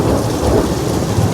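Thunder rumbles loudly through steady heavy rain during a thunderstorm near Lake Michigan, a continuous deep roar with rain pattering close by.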